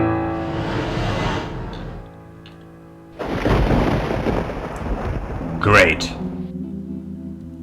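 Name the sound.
thunderstorm in video game Downfall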